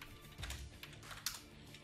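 Faint, scattered clicks of typing on a computer keyboard during editing work in After Effects, with a few sharper key taps standing out.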